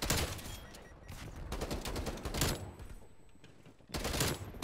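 A TEC 9 fires rapid bursts in Call of Duty Cold War, dense loud crackling volleys in close succession with a brief lull before a final burst.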